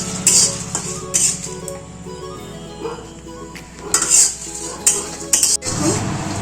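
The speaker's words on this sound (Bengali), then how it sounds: "এইভাবে শুকনো খোলায় লঙ্কাগুলো আমি ভেজে নিয়েছি" Dried red chillies dry-roasting in a hot pan, close metal clinks and scrapes of a spatula against the pan over a faint, low sizzle, with bursts of stirring and no talking.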